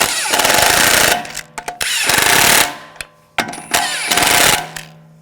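Impact wrench running lug bolts down on a 2006-2009 Audi S4 4.2L V8 wheel, loud close rattling bursts of a second or so each, separated by brief pauses, with no speech.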